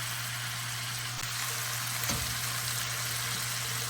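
Potato stuffing cooks in a pan with a steady close sizzle and a constant hum behind it, plus a brief clatter near the middle.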